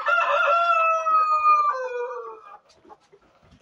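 Chickens kept as test birds on an organic farm crow in one long, loud, drawn-out call, followed by a few soft clucks fading into quiet.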